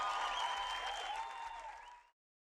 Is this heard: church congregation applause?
yes